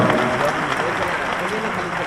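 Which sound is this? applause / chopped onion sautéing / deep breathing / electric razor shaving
applause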